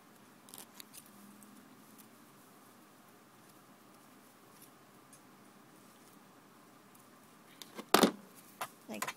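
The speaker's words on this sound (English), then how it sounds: "Then you want to trim off extra threads." Scissors snip stray threads off a knitted sweater cuff, mostly faint quiet handling and rustle, then a sharp close cut near the end followed by a couple of smaller snips, with no speech.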